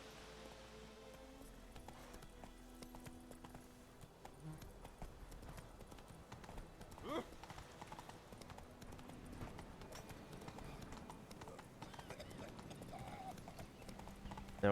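Horse hooves clip-clop steadily in The Witcher 3, a close, continuous trotting rhythm with a brief whinny and faint rustling, under quiet talk.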